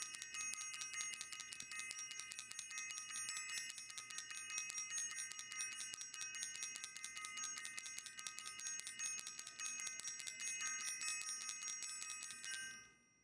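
A bell rings continuously at a rapid, steady rate for about twelve seconds, bright and metallic with sustained overtones, close and alone, then stops abruptly.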